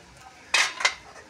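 A metal lid is lifted off a pot of simmering water during fish curry cooking: two quick, bright clanks close by, the second slightly softer, over a quiet background.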